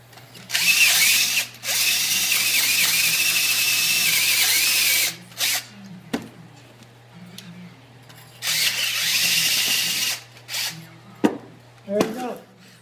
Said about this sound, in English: keep drilling and I'll have a clean cut right through the other side